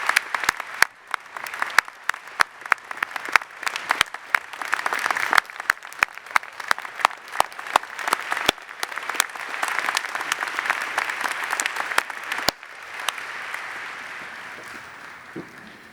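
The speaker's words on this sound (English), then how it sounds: "I think we ought to have one more round of applause for President Roy Wilson." Sustained audience applause fills a commencement ceremony hall, dense clapping holding steady for about twelve seconds before thinning into a softer crowd murmur, with no one speaking over it.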